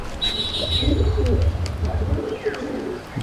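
Pigeons coo low and throaty in a loft, a soft rolling burble close by, with faint chirps and clicks and a thin high tone above.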